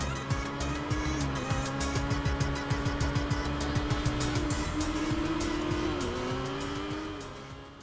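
In the Final Fantasy VII Remake video game, a vehicle skids to a stop: an engine roars under a long, wavering tire squeal with rapid rattling, then the sound eases off at the end, with no talking.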